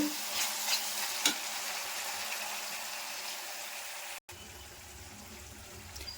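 Paneer vegetable gojju stirred in a pan, with a steady soft sizzle and a few scraping strokes, close and moderately loud, broken by a brief gap near the end; no one speaks.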